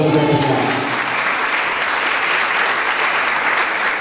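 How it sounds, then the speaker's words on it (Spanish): Loud, dense applause from a church congregation gathered at a house prayer meeting in Honduras, continuous clapping throughout, with a brief trace of a voice at the start. "¿Cuándo le damos aplauso a Jesucristo?"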